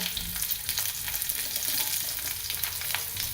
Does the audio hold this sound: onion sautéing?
yes